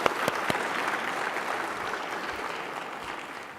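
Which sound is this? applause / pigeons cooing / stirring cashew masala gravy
applause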